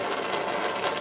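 An aquarium air pump runs with a steady, loud, buzzing hiss that holds unchanged through the whole short stretch, with nothing else heard.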